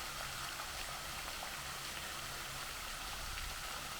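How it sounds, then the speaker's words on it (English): Water pours steadily down the stone cascade house at Chatsworth, a stately home garden, giving a dense, continuous rushing wash with no pauses and no speech. "And as you can see, water even runs down on the roof."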